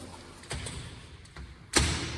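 A locked door's handle is tried indoors: a soft rattle, then a sharper jolt and a heavier thud as the door is pulled against its latch, close and fairly loud.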